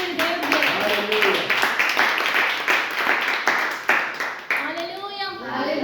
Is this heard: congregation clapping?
yes